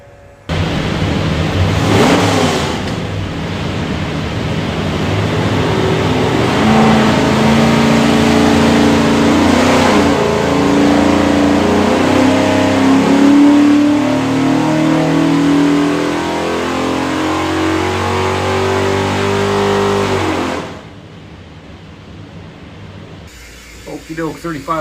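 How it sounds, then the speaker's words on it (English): A 427ci small block Ford V8 built for a '67 Mustang roars on an engine dyno in Germany, climbing steadily through a long, loud wide-open pull for about twenty seconds before cutting back to a rumbling idle. "here's your 427 small block Ford"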